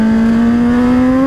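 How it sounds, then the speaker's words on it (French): A Suzuki 750 GSR motorcycle engine decelerates close by, a steady droning whine whose pitch slowly shifts over a brief moment, alone with no talk. "Le bruit de la décélération, c'est mortel."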